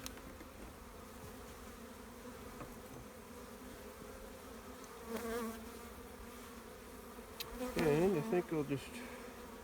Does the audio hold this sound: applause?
no